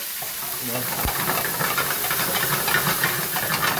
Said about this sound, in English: So as we're sauteing this up and getting that very happy, as you can see here in the pan